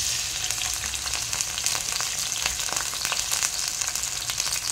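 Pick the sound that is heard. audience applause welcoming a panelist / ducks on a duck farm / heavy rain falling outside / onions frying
onions frying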